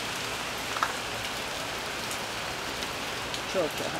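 Steady rain patters on a bench in a constant hiss, with faint bird chirps coming through now and then.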